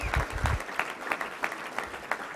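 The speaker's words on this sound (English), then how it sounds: "Let's give a round of applause for Keith Stokes." Applause from the crowd at a Little Rock Touchdown Club luncheon, a brief, moderately quiet patter of clapping with distinct individual claps standing out over a thin background.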